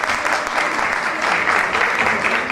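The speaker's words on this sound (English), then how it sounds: "Folks, a real good round of applause for Larry Cutrone." A theatre audience at a tribute show applauds warmly, a dense, even burst of clapping from many hands that stays steady and close for the whole stretch.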